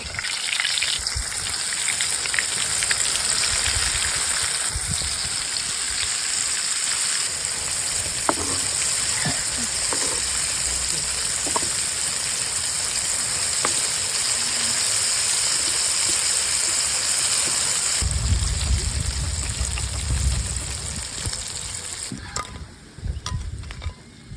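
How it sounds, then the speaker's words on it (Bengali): Chicken fry pieces sizzle steadily in hot oil, a loud continuous frying hiss with occasional crackles, louder and fuller near the end, with no talking. "এবার আমরা চিকেন ফ্রাই ভেজে নেব আগে ভালো মতো ভেজে নিয়েছি এবার তেলে দিয়ে দেব"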